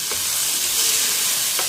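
Garlic and tamarind sauté in a pan for chutney, giving a loud, steady hiss of frying close up, with a faint stir or scrape at the start and end.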